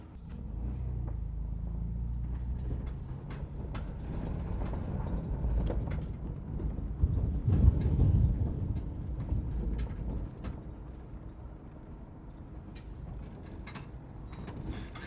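An off-road vehicle crawls along the Flint Trail, a rugged shelf road, with a low steady engine rumble and occasional bumps and creaks over rock, continuous and moderately near, with no talking.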